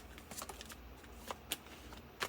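Tarot cards shuffled and drawn from a deck, giving a few soft, brief riffles and snaps spread across a quiet stretch.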